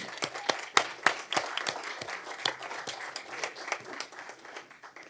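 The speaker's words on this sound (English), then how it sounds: "Maybe a round of applause." Sparse applause from a small audience at a school board meeting, individual claps popping out irregularly at moderate volume before thinning toward the end.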